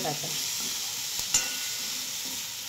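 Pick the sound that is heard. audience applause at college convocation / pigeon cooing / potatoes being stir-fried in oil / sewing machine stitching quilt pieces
potatoes being stir-fried in oil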